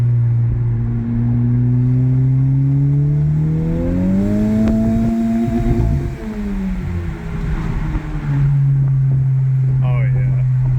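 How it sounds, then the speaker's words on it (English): A 2021 Honda Civic Type R with a Megan Racing aftermarket exhaust pulling hard through second gear, the engine note climbing steadily in pitch, loud and close from inside the car, then dropping back. "Second gear pull."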